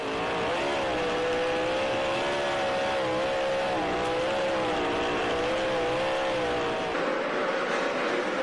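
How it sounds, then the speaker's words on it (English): A sprint car engine at the 2012 Knoxville Nationals, heard from an onboard camera, drones loudly and continuously with a wavering pitch as the throttle is worked through the corners, no voices present. "Let's listen to the onboard here with Brian Brown."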